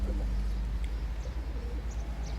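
Pigeons coo softly in a farmyard during breeding season, low burbling calls over a steady low hum, fairly faint and close, with no talk.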